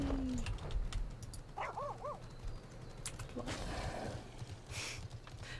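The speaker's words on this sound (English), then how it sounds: "I like your mounts, like cute little woof woof woof." A dog-like mount in the video game Final Fantasy XIV gives a few short, bright yips and barks in quick succession over quiet game background sound, with voices talking around it.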